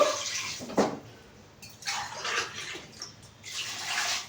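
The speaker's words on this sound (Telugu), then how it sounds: "నేను ఐదు గ్లాసులు వాటర్ అయితే వేసుకుంటున్నాను" Water from glasses poured into a cooking pot for a chicken fry piece biryani, in three separate splashing pours, the last longest, with no voices.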